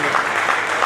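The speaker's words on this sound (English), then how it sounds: "I request all of you to clap for him." Audience clapping at a Rotary Club installation ceremony in Nizamabad, a brief steady burst of dense applause filling the hall.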